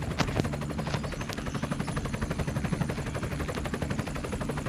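Helicopter in the video game Dude Theft Wars, a steady rotor chop with rapid pulsing beats held throughout, loud and close, mixed with sharp gunfire-like cracks.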